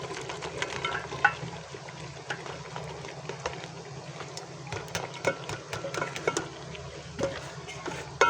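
Pumpkin pieces being stirred into meat frying in a pot, with steady low sizzling and repeated scraping and clattering of a spoon against the pot throughout.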